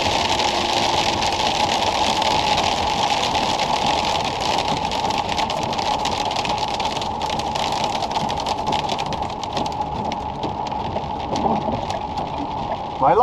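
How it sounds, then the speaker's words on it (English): Hail pelting a truck driving through Wyoming, a dense continuous patter over the engine's drone, steady and close throughout. "It's hailing out."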